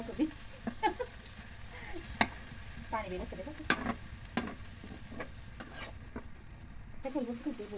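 Lightly salted meat stirred in a frying pan: a low sizzle with irregular scrapes and knocks of a spoon against the pan, with voices talking intermittently nearby.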